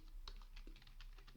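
Quiet, close-up typing on a computer keyboard, a quick run of soft, irregular key clicks over about a second and a half, with no voices.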